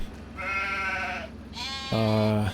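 Sheep on a farm bleat in a few drawn-out, wavering calls, the last one louder and closer, with quiet background noise between.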